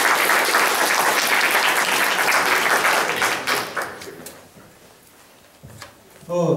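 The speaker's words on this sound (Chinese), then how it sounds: "今晚热烈的掌声下，" An audience at the Greater Los Angeles Taiwanese Center gives loud, full applause to welcome a speaker. The clapping thins and fades after a few seconds, then a voice begins speaking near the end.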